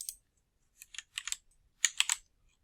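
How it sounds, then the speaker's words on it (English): Quick bursts of keystrokes clatter on a computer keyboard, close and crisp, coming in three short clusters separated by brief silent pauses as a Twitter handle is typed. "You can also just type in the Twitter handle or username"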